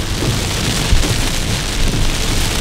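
Heavy rain pours steadily and loudly on a day out headed to Riverview, a dense continuous wash of drops hitting surfaces with no pauses and nobody talking.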